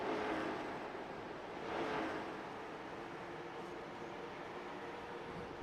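A race car engine drones on a short track at Myrtle Beach in a Western Super Series race, a steady distant roar that swells briefly once before settling back.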